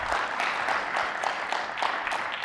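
Audience applause in a conference session hall for Mark and Ryan, a soft, fairly distant wash of many hands clapping steadily with no talk over it.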